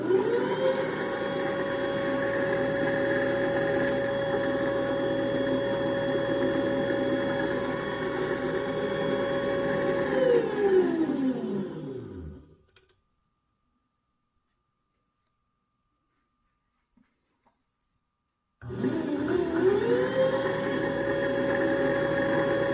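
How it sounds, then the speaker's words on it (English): A half-horsepower electric motor hums steadily and loudly, then spins down and falls silent for several seconds before starting up again and returning to its full, even whir. "when I switched to this motor, a half-horsepower unit"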